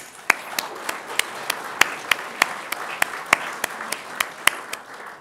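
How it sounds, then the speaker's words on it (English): Audience applause for staff at a government awards ceremony, a room of steady clapping with one nearby person's sharp, evenly timed claps standing out prominently over the softer crowd. "Let's give them a round of applause"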